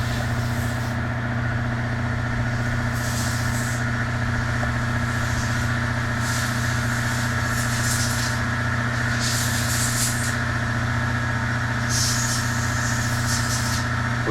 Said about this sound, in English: We're just blowing off that cover with compressed air right now